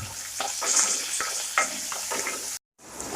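Onion, green chilli, ginger and garlic sauté in a hot pan for a Kerala kovakka curry, a close, steady sizzle broken by several sharp scrapes and stirs before a brief cut to silence.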